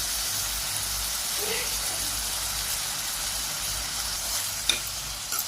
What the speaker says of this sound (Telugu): ఇది మంచిగా కలుపుకొని 5 మినిట్స్ కారంని మగ్గనిద్దాం.